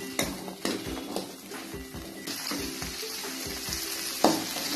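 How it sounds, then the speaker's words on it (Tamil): Small onions and a gooseberry-sized lump of tamarind sautéing in a pan for kara chutney, giving a dense close sizzle with regular spatula knocks and scrapes against the pan. "நல்லா வெங்காயத்தை வதக்கி விட்டுக்கோங்க."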